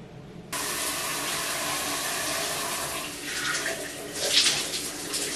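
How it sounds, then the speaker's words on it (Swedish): A shower starts abruptly and water runs in a steady, loud, broadband hiss, with slight shifts in the spray as it continues. "Ska duscha i alla fall."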